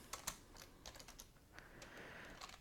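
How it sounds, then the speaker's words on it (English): JavaScript code being typed on a computer keyboard: a quiet, irregular patter of close keystroke clicks with brief pauses, no voices. "So I'll go ahead and type this out real quick."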